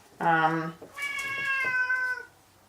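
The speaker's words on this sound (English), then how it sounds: "It's my cat." A house cat meows twice nearby indoors during a painting session, a short harmonic call followed by a longer, drawn-out meow, with no speech over it.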